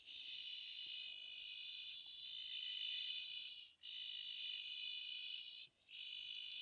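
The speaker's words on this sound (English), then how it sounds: "What you're listening to here is the Lesseuers Frogs courting each other around the buoy wall" Lesueur's frogs courting around rainwater tanks at night form a steady, high, continuous trilling chorus that drops out briefly twice, with faint rustling below it.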